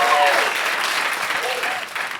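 A comedy show audience claps steadily with dense, even applause for the whole stretch, the clapping slowly easing toward the end.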